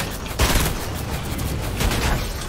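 Enemy gunfire in the Fortnite video game: a couple of loud, close bursts of rapid shots over a steady wash of game noise, with no voices.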